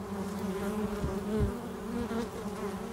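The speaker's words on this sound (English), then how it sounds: "And look at this bee here." Feral honeybees buzz near bark coated with propolis, a close, steady droning hum with a couple of brief louder passes as bees fly by, and no talking.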